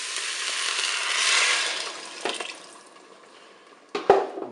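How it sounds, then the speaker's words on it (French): Broth is poured into a Cookeo multicooker, a soft continuous liquid rush that swells and fades, followed by a couple of sharp clinks and knocks near the end. "Maintenant, je vais verser mon bouillon"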